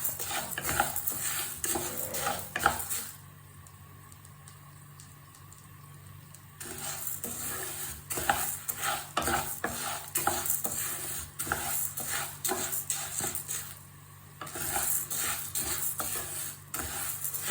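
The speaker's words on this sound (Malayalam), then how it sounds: "ഇതിലേക്ക് ഞാൻ ചെറുപയർ ഇട്ട് കൊടുക്കുകയാണ്. ഇത് നമുക്ക് വറുത്തെടുക്കണം." Green gram being dry-roasted and stirred in a kadai, with a spoon repeatedly scraping and clinking against the pan in bursts, soft sizzling underneath and quieter pauses between the stirring strokes.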